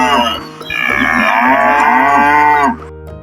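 A buffalo lets out one loud, long, low moo that rises and holds for nearly three seconds before cutting off, close and clear, with no voices around it.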